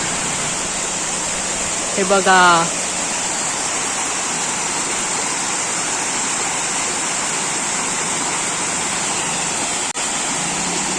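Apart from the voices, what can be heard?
small waterfall flowing in Konkan rain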